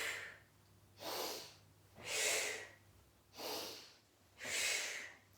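Steady, rhythmic breathing during a stretch and conditioning exercise, with four or five slow, audible breaths alternating exhale and inhale, close and quiet, with nothing else heard.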